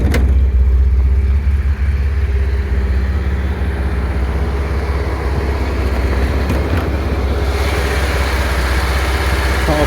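A 1968 MG MGC roadster engine idles nearby with a steady low rumble and even rhythm, while its electric cooling fans whir underneath throughout.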